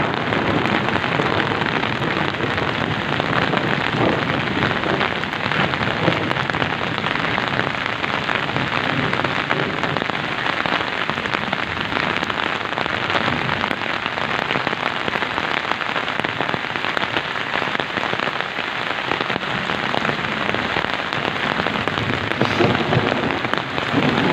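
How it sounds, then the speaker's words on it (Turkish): Heavy rain pours down steadily and densely on a village for the whole stretch, a constant hiss of drops pattering on surfaces with no voices. "Yağmur gittikçe hızını da arttırmaya başladı arkadaşlar"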